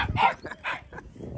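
Aussiedoodle puppies yip and bark nearby, three short high-pitched barks in under two seconds.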